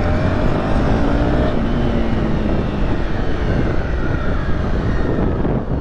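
A Honda motorcycle, either a CBR250R or an XRE300 Rally, runs on a test ride, its engine a steady loud drone with rising and falling pitch over continuous road and wind rush, no voices.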